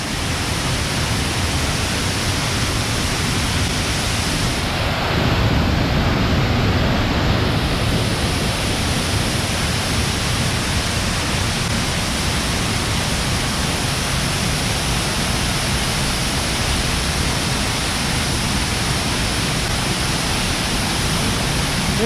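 Lick Creek Falls on the Lick Creek Trail in Daniel Boone National Forest gives a steady, dense roar of falling water, loud and close, unbroken for the whole stretch with no voices.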